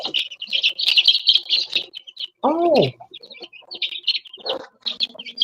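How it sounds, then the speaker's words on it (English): Birds chirping and tweeting in short bursts at the bottom of an aquarium setup, fairly close, with a brief exclamation and a few other voices between the calls. "I didn't realize there were birds down there."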